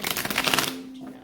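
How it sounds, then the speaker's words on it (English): Tarot cards are shuffled in a quick, dense riffle of papery flutters for under a second, close and fairly loud, then fade out under a low hum. "One last shuffle for Taurus."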